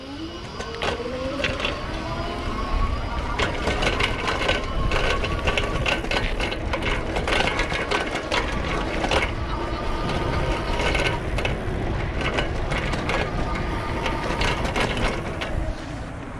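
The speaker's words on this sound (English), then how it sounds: "you probably heard a little bit of rattling. That was probably mostly the fenders" EMOJO Panther electric bike fenders rattling while riding, a continuous loud clattering and buzzing mechanical rattle over steady road and motor noise.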